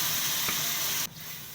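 Strained tomato juice poured onto okra and onions frying in a pot for a Upper Egyptian clay-pot okra dish, a steady broadband sizzle that cuts off abruptly about two-thirds through, leaving a quieter hiss.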